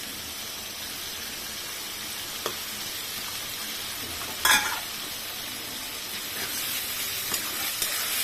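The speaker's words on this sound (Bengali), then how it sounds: "টমেটোগুলো ভালো করে নেড়ে চেড়ে একটু নরম করে নিব" Tomatoes stirred and fried in a pan for a prawn curry make a soft, steady sizzle with a few clacks of the spoon on the pan.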